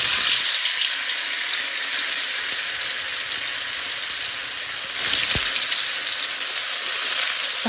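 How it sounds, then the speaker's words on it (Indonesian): Tofu with some water still on it frying in hot oil in a pan, giving a loud, continuous close sizzle that swells briefly partway through, with no speech over it. "Sekarang waktunya kita masak tahu."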